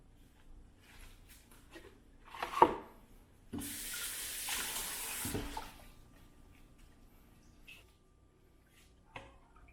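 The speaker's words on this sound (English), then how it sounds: "Now we squeeze all the juice from the leaf out" Juice is squeezed by hand from pennywort leaves, giving a brief wet splashing burst with a couple of sharper squelches, close up and otherwise quiet.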